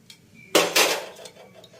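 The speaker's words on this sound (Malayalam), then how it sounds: "ഇനി അതിലേക്ക് നമ്മൾ എണ്ണ ഒഴിക്കാൻ പോവുകയാണ്" Coconut oil poured into a pan set on the stove for carrot thoran, heard as a sudden close splashing, clattering burst lasting about half a second, then a few softer knocks from the pan.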